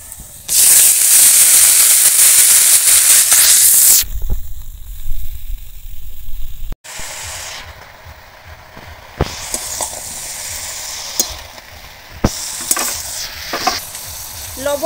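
Vegetables tossed into a pan of fried onion set off a loud burst of sizzling, followed by lower steady frying with scraping and stirring clatter close by, no talking.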